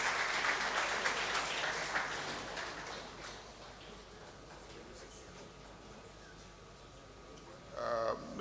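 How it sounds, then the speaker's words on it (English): Conference audience at a trade seminar claps, a soft, distant patter that fades over a few seconds into a quiet hall, followed by a brief voice at the very end. "Give her a round of applause,"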